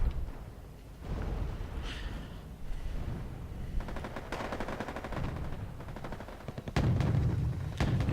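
Artillery and gunfire crackle and boom in the Cold War strategy game Wargame: AirLand Battle, loud and continuous, with bursts of rapid shots and a heavier blast near the end.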